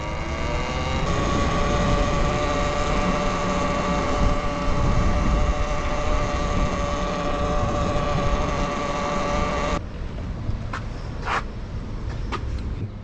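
A Talaria Sting R MX4 electric dirt bike being ridden hums with a steady, tonal electric motor whine and drivetrain noise that holds loud for about ten seconds, then drops away, leaving quieter background sounds and a few brief clicks.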